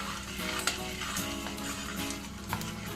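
Fennel seeds and asafoetida crackling and sputtering in hot oil for an amla pickle tempering, a dense sizzle punctuated by sharper pops, heard up close without speech.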